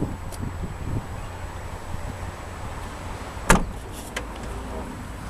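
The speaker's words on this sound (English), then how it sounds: "Now we can hit this button here, and that will close our power lift gate for us." Power liftgate of a 2014 Kia Sorento SUV closing, a soft motor whir followed by one solid latching thump near the middle, then a few faint clicks.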